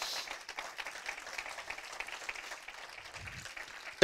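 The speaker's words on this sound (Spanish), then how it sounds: "dele ese aplauso a Jesucristo" A church congregation applauds in worship during a sermon on marriage, soft and somewhat distant, a thin even patter of clapping with a brief low thump near the end.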